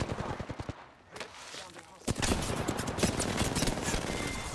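Apex Legends gunfire: rapid bursts of loud shots crack out, fade into a brief lull, then return as a dense, sustained volley of overlapping rounds.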